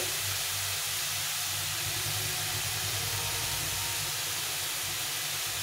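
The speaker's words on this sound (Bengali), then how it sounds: "দিয়ে এটাকে ভালো করে ভেজে নিতে হবে" Beetroot frying in a pan with salt and turmeric gives a dense, continuous hiss and sizzle, loud and close, with no pauses or voices.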